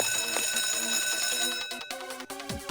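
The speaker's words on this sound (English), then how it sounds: "Someone's hit the fire alarm." A fire alarm rings in the Persona 3 FES video game, a bright continuous electronic ringing that fills the moment before breaking into choppier bursts near the end.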